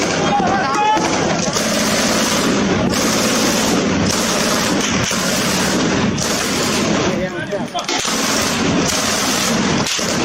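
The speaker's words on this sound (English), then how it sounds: "decides to take his MG3 and shoulder fire it Rambo style" An MG3 machine gun is fired from the shoulder in Yemen, a long, loud, continuous run of automatic fire with brief breaks between bursts that fills the whole span.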